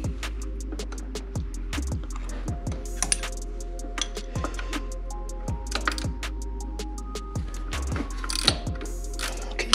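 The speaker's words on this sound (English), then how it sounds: "I need this wrench in order to get in here and get this thing off" Ratcheting clicks from a wrench loosening a bolt on a 1987 McLaren car, a close, steady run of rapid metallic ticks in repeated bursts over a low engine-bay hum, with no talking.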